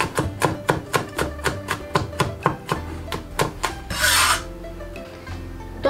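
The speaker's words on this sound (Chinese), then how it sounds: "再剁成蒜末" Crushed garlic cloves are minced on a chopping board with a cleaver, a rapid even run of sharp close knocks followed by a brief scraping sweep, then a few more knocks, with no voices.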